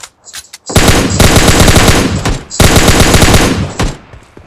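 Rapid automatic gunfire in an online video game shooter, two long loud bursts separated by a short pause, with a few sharp single shots before them, and no talk during the firing.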